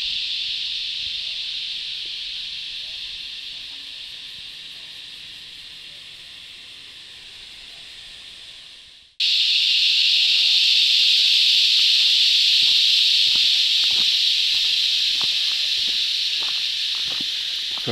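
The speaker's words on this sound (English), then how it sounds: "Cicadas here." Cicadas along the Great North Walk in Australia drone in a loud, continuous high-pitched hiss, which drops out for a moment and then returns even louder, with faint footsteps crunching underneath.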